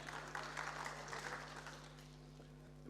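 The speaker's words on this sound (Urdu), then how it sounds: "بھرپور تالیوں میں" Audience applauding to welcome a speaker at a gathering in Lahore, a soft, steady patter of clapping, faint and distant, over a low electrical hum.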